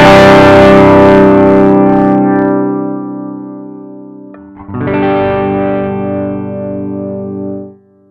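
Electric guitar played through a Klon KTR overdrive pedal with its buffer engaged, a sustained loud chord ringing out and fading, then struck again and cut off as the volume knob is adjusted; no talking.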